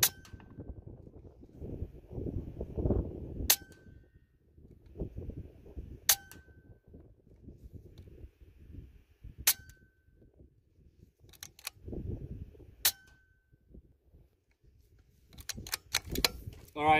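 Air rifle shots of .177 NSA 21-grain slugs fired at a target, five sharp cracks at a steady interval, each with a brief metallic ring, over low rumbling handling noise.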